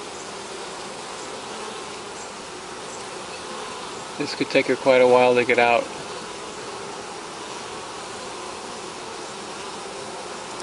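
A steady, dense buzz of many honeybees at a hive runs throughout, with a person speaking briefly near the middle.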